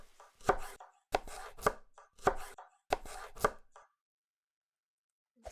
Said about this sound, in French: On va couper la tomate.